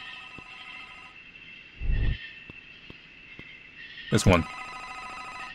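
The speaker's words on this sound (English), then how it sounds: "I thought I heard a phone ring?" An old-style telephone bell rings twice in a horror video game, The Vermander Curse, each short ring loud and jangling against a steady electronic drone, with a brief spoken remark nearby.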